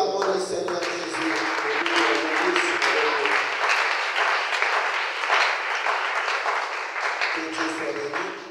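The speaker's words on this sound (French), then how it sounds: "Acclamons le Seigneur Jésus." A church congregation applauds and cheers loudly and continuously, with a murmur of voices mixed into the clapping.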